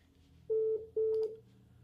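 A telephone rings twice in a steady electronic tone, two even bursts with a short gap between them, fairly clear over a quiet room background.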